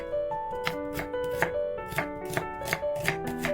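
An onion is chopped with a knife on a board, with quick, steady, close knocks in an even rhythm under faint background music.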